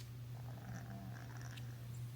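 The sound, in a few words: pet cat purring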